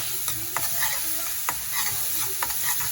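Masala spices sizzle in hot oil in a pan while a spoon stirs and scrapes them, with a few sharp clinks against the metal over a steady close frying hiss; no voices.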